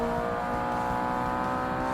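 A Honda S2000 engine in the Forza Motorsport racing game (Xbox, 2005) holds a steady, loud drone with bright harmonic bands, carrying on unbroken and alone.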